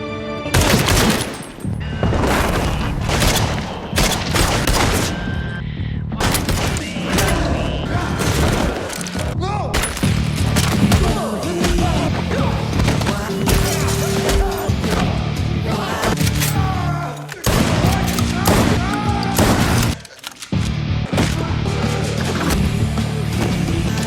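Gunfire erupts in an action film battle scene: dense, loud volleys of shots and booms pile up almost without pause, mixed with impacts and a voice speaking over the chaos.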